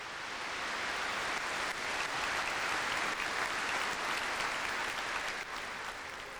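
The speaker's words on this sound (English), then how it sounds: "We don't applaud in church, but everybody was applauding." Dense, continuous applause fills a church nave during Princess Diana's funeral in 1997, an even roar of many hands clapping that holds steady throughout, heard at a distance with soft reverberant spread and no voices standing out.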